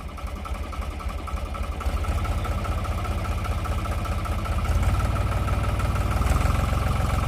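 A heavy machine's engine runs on village land with a steady low, throbbing rumble that grows louder and denser partway through, close and continuous, with no talk heard.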